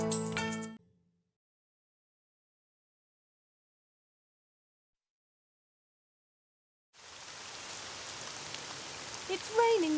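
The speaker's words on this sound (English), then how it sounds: "It's raining too much." Heavy rain in a children's cartoon begins suddenly after a brief tonal sound and several seconds of silence, then falls as a steady, fairly quiet patter of drops on surfaces to the end.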